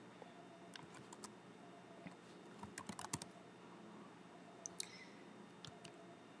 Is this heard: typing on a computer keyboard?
yes